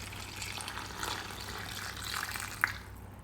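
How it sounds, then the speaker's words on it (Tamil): Water is poured into a country chicken masala inside a pressure cooker, giving a steady, close splashing wash with a brief sharp clink near the end. "தேவையான அளவு தண்ணி சேர்த்துக்கலாம்."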